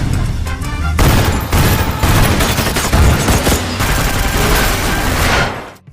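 Loud, dense gunfire from the Baby Driver shootout scene, rapid overlapping shots and bursts crackling almost continuously before cutting off abruptly at the end.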